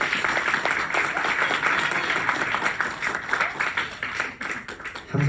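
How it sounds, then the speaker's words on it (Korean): Audience applause filling a lecture hall, dense and steady clapping from many hands that holds for several seconds before thinning slightly at the end. "박수 한번 주세요."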